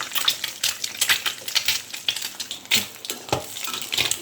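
Egg frying in hot oil in a pan with a pinch of salt sprinkled over it, a steady crackling sizzle with sharp popping bursts throughout, fairly close and with no talking.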